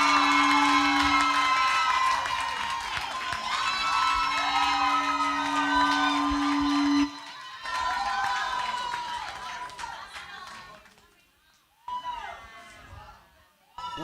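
Event audience at a business and career expo cheering, whooping and shouting loudly in a large hall, a sustained roar that thins out and fades after about seven seconds, with scattered voices and a steady hum underneath.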